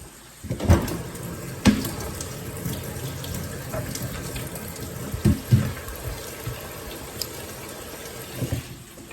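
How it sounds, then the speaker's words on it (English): Running tap water flows steadily in a kitchen sink, with a few louder splashes and clunks as chicken for fried tenders is rinsed under the stream. "I'm gonna wash this off."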